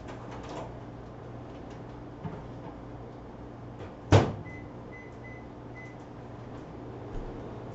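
A microwave oven door, loaded with a Tupperware stack cooker of pasta sauce, shuts with one sharp thud in a quiet kitchen, followed by a short series of soft electronic beeps as the timer is set.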